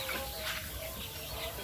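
Laying hens cluck and murmur softly in a dense, continuous flock noise in a semi-free-range coop, faint and somewhat distant, with no talking.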